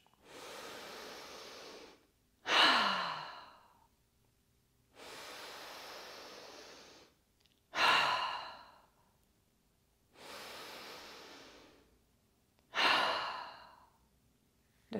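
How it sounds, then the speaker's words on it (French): Three slow, deep breaths during a yoga routine, each a long, soft inhale through the nose followed by a louder, gusty sighing exhale through the mouth, spaced evenly and heard close up. "de prendre 3 respirations profondes. Inspire par le nez et expire par la bouche."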